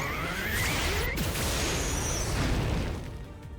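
Fire Drake Strike attack effect from Emperor Greymon in Digimon Story: Time Stranger, a dense roaring burst of crashing, whooshing fire and impact noise lasting about three seconds before fading.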